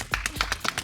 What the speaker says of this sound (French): On peut applaudir les filles de la première maison!